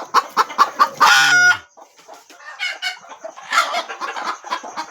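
Several free-range village chickens cluck nearby in quick, choppy bursts, with one hen's louder rising squawk early on, then scattered clucking continuing at a moderate level.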